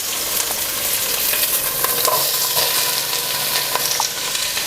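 Two chopped onions sizzle loudly in a hot frying pan, a steady bright crackle with occasional stirring scrapes and clinks throughout.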